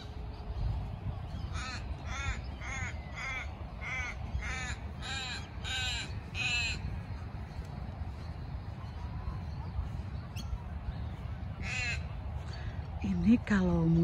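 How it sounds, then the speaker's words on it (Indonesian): Crows caw repeatedly in bursts, several birds calling in series, over a constant low outdoor rumble like wind or distant traffic, on a morning in Melbourne. "Suara burung, banyak burung."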